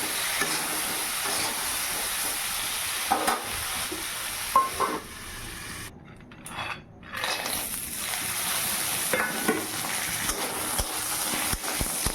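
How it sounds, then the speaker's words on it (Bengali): Flat beans and eggplant frying in oil in a wok, a steady sizzle and spatter with occasional stirring knocks and a brief quieter dip midway. "কড়াইতে তেল দিয়ে দিলাম তো শিম আর বেগুনটা আগে ভেজে তুলে নেবো"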